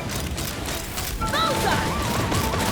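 Gunfire in Genshin Impact, a dense rattling burst of rapid shots with mechanical clatter, loud and continuous, mixed with game sound effects and a brief rising tone.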